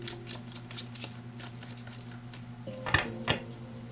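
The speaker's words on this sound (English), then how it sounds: "So I'm just gonna shuffle one more time." Tarot cards riffled and shuffled in a series of soft, papery bursts, close by, with a steady low hum underneath.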